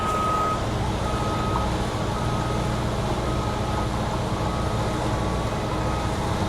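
A truck's reversing alarm beeps steadily while the driver backs a full trailer into a tight gap between two parked trucks, the beeps riding over a constant loud engine and air-conditioning drone.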